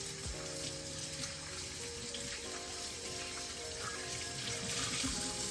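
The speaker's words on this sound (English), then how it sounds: "I'll wash my hands a little bit." Water runs steadily from a kitchen tap into a sink, splashing and gurgling as hands are rinsed before making meatballs, close and continuous.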